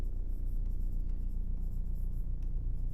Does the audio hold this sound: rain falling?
no